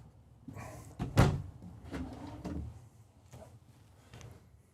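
Wooden dovetail drawers on roller bearing slides in a 2025 Renegade Valencia 36SB motorhome wardrobe slide open and shut several times, with rolling runs and soft thuds as they close, nearby.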